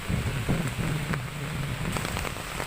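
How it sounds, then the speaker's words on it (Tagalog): Heavy rain pours steadily and close by in Bulacan, a dense, constant hiss of drops hitting surfaces with no voices. "Ayan o, malakas na ulan."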